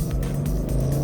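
A 2005-2017 Ford Mustang fitted with a throttle response booster pulls away with a steady, deep engine drone, heard from inside the car, loud and continuous without talk.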